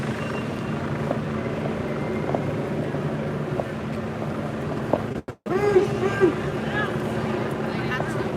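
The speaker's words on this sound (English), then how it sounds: "That damn helicopter" A helicopter drones overhead during a street march in London, a steady low rotor throb that persists throughout, with a brief dropout near the middle and voices mixed in.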